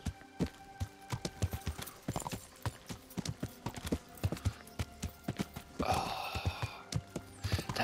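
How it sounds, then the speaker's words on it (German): Horse hooves clip-clop in a steady rhythm while riding along a route in the video game Kingdom Come: Deliverance, with a brief rustling burst partway through and no talk. "Ja, wir reiten mal weiter die Strecke lang"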